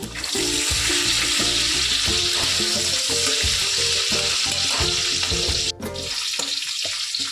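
Loud, continuous sizzling of green peas frying in hot ghee in a wok, with faint rhythmic music playing underneath.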